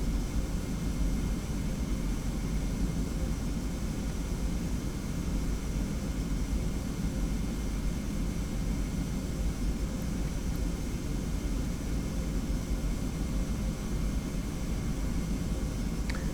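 Steady, dense jet engine drone from a TFDI 717-200 airliner holding short on the ground in Prepar3D v4, a constant broadband rumble and hiss that runs unbroken without any voices.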